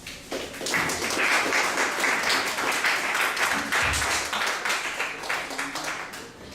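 Applause from an academic audience after a talk on ethnicity in the city, a steady, dense wash of clapping held at an even level for several seconds, moderately distant, with faint voices underneath.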